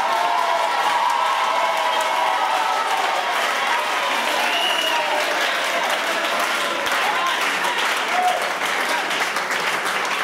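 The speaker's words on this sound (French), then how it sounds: "Si vous avez apprécié cette salutation, encore des acclamations" Large crowd at a church revival meeting in Yamoussoukro applauding and cheering continuously, loud sustained clapping with whoops and shouts throughout.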